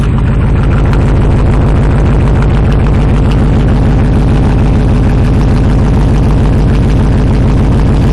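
A heavy truck engine with true dual exhaust idles steadily and loudly up close, its deep rumble pulsing in an even rhythm throughout with no voices.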